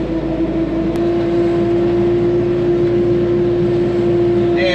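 Tractor engine running steady at raised RPM with the PTO engaged for mowing, a strong constant hum with a sustained tonal drone, loud and close throughout.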